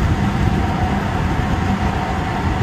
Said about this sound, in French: Et le bruit qu'il fait, ça doit être un moteur TF6 je pense.